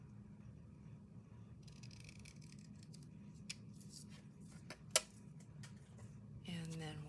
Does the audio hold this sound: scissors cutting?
yes